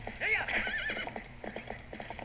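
A horse gallops in Zelda: Twilight Princess with a steady, rapid clip-clop of hooves and a whinny at the start, all under ongoing game sound.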